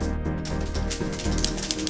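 A typewriter clatters in quick irregular bursts of keystrokes during a poetry duel at a cabaret show, close and busy over a steady background hum.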